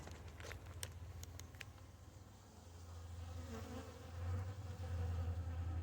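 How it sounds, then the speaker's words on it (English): A low, steady swarm drone of many honey bees in a cherry tree hums continuously close by, with a few faint ticks and rustles mixed in, swelling slightly toward the end. "I got a lot of bees in the cherry tree."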